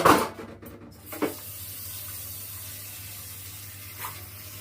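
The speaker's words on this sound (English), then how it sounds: "Now I've got to put some water." Water runs steadily from a kitchen tap during cake baking, a close hissing stream that starts with a splashy burst and then settles into a constant rush.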